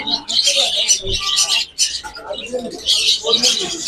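Budgerigars in a bird shop chattering and chirping in a dense, continuous flock, with bright warbling calls rising and falling close by throughout.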